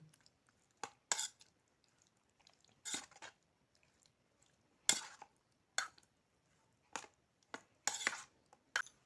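Spoon clinks and scrapes against a pot or bowl while vegetables are mixed with ground spice paste for a steamed vegetarian bhapa sobji, sparse separate knocks with quiet gaps, close and fairly soft.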